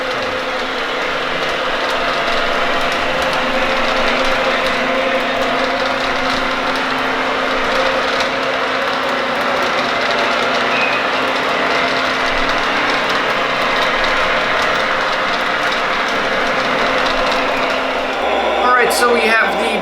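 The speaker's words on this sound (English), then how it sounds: "So we have the BNSF genset running first" A Lionel Legacy BNSF genset model locomotive runs on a 48-inch loop, giving a continuous mid-pitched diesel-style engine drone with a steady hum that cuts out near the end.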